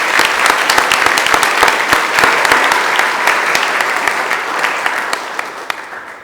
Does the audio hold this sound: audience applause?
yes